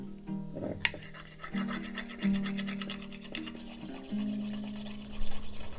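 A smooth stone or piece of metal burnishes a heavily oiled wooden milking stool. The result is soft, close rubbing and scraping strokes with low droning squeaks and occasional faint scratches.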